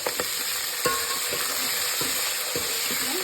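Cumin seeds and green chilies frying in hot oil for a Telugu drumstick pappu charu, a steady close sizzle broken by several sharp stirring clicks of a spoon against the pan.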